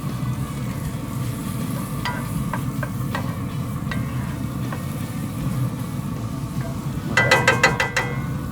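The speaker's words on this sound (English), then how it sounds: "Let's go ahead and add the bison in. Get that nice and mixed up." Bison meat stirred and cooking in a cast iron pan, with a steady low sizzle throughout, scattered scraping clicks from the utensil, and a brief burst of sharper scraping near the end.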